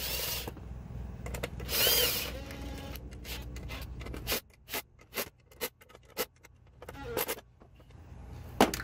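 A power tool whirs in short bursts while bolting up a PCM during a Hydra Chip install on a Ford Powerstroke Super Duty truck, one longer run early and then several brief close pulses.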